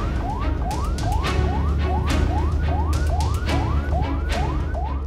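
An ambulance siren in Sidikalang, Dairi, Sumatra sounds loud and close: a rapid yelp that sweeps upward again and again at an even pace over a low engine rumble.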